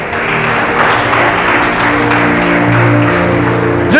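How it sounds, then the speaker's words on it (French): A church congregation claps together in worship, producing steady, dense applause that fills the room at a loud, even level from start to finish, with sustained tones underneath. "Dis gloire à Dieu, acclame pour le Seigneur."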